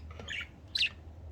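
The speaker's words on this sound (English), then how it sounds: "It's a bird." Pet budgie loose out of its cage indoors, giving a couple of short chirps followed by a louder, sharper squawk, fairly close over a low steady background hum.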